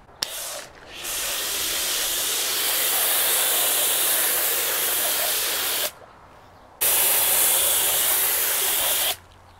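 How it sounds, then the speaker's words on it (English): A pressure washer sprays car wheels in long loud hissing bursts, cutting off briefly between passes and starting again close to the listener. "They're really not that hard when you have a real pressure washer."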